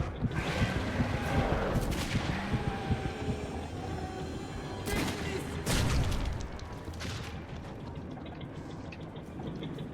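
Shotgun blasts in the Metro 2033 video game, a few loud bursts standing out over a dense, noisy game soundscape of clatter and rumble.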